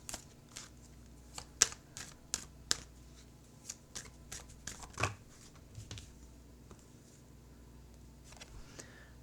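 A deck of tarot cards is shuffled up close, giving a run of crisp, irregular riffling snaps and soft slides that thin out toward the end, with no talking.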